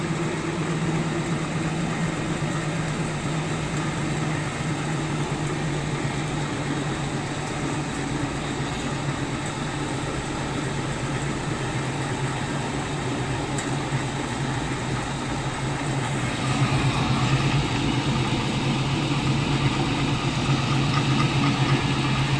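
An NM200 pellet mill granulator runs steadily with a constant mechanical drone and hum, loud and close, with a slight rise in intensity near the end.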